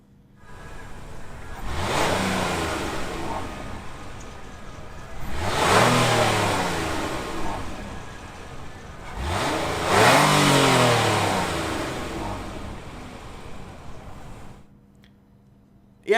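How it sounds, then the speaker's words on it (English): A 2016 Nissan Murano crossover's engine revs up three times in succession, each surge rising and falling back to idle, loud and close with no talking. "Yeah, and that engine sound, it's nice."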